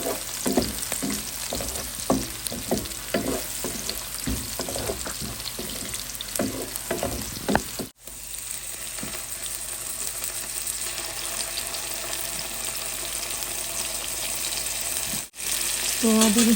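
Whole spices fry in hot oil in a pan with onions, giving a steady close sizzle with rapid crackling pops that ease off into a softer continuous hiss.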